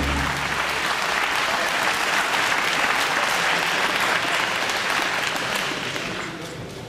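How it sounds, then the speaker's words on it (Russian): An audience at a fight event applauds steadily for several seconds, a dense, even wash of clapping that fades slightly at the end. "Поддержим наших бойцов аплодисментами!"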